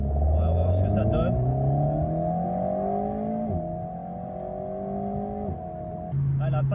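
Alpine A110S sports car pulling into traffic, its engine droning loudly close by and rising in pitch through several gears with brief dips at each upshift, running continuously.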